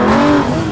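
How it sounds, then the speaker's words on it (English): Aston Martin V12 Vantage S with a quad-cam V12 and seven-speed gearbox, its engine roaring loud and close in a sustained rich howl, pitch easing slightly partway through. "This is just a quad cam V12 that sounds great, responds instantly to the throttle"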